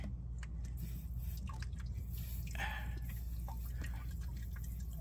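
Engine coolant draining and dripping from a leaking car radiator hose, a steady low wet trickle with scattered small drips, close and fairly quiet, with no talking.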